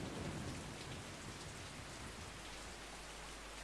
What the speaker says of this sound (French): Pourquoi il y a des éclairs dans ma maison?